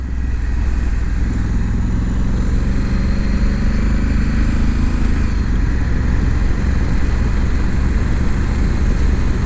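A Honda CB1000R motorcycle heard while riding, a loud steady engine drone with wind rush and a shifting low tone as the gearbox changes, with no talk.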